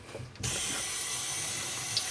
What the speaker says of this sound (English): And we have water. You can hear it.